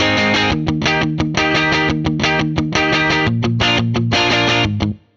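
A virtual guitar runs through an amp simulator plugin, playing loud, heavily distorted chugging power chords in tight rhythmic bursts with short gaps, then stopping abruptly at the end.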